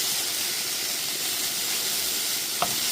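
Bitter gourd (ucche) is stir-fried in a pan with a steady, dense sizzle that runs unbroken and alone, with one brief knock near the end.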